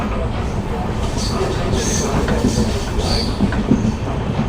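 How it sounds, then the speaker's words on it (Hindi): The Amritsar–Bikaner Superfast Express runs at speed, giving a loud, steady rumble of wheels and carriage noise with faint rhythmic clatter and occasional higher squeals throughout. "अच्छी गति के साथ आगे बढ़ती हुई हमारी ट्रेन।"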